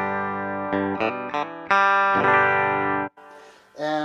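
Stratocaster-style electric guitar through an amp, bright single-coil tone: several short plucked chords and notes, then a long ringing strum, loud and close.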